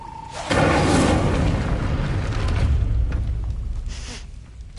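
A fire spell cast in the Hogwarts Legacy video game bursts out as a loud, sustained whooshing blast that swells abruptly and roars steadily for several seconds before easing slightly, with no talking.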